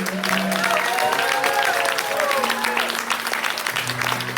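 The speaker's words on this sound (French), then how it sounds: "est-ce qu'on peut acclamer pour le Seigneur Jésus?" A church congregation claps and cheers for Jesus, a dense, steady wall of applause with shouts, sustained throughout alongside voices and tonal sounds that may be singing or music.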